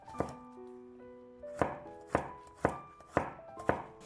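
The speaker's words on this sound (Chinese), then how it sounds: "几瓣去皮的大蒜切成蒜片" A kitchen knife slices peeled garlic cloves into thin pieces on a board, giving about six crisp, close chops at an uneven pace. Soft, sustained tonal music plays underneath.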